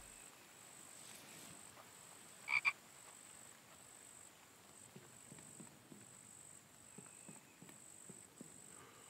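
A frog croaks faintly in a survival video game, a couple of brief calls amid a steady night chorus of insects and soft scattered clicks, distant and low in level.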